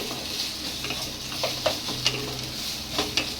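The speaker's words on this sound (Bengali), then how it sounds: "দেখো শাপলা ভাজা যেটা করছি আমি, জলটা পুরো শুকিয়ে গিয়ে তেল ছেড়ে দিয়েছে।" Water lily stems fry in hot oil after their water has cooked off, giving a steady close sizzle broken by a few light scrapes and taps of a spatula against the pan.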